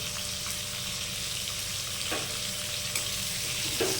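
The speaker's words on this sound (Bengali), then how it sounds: "আলুটা লাল করে একটু ভেজে নেব।" Potatoes fry in hot oil with salt and turmeric, a steady close sizzle throughout with faint scrapes of stirring.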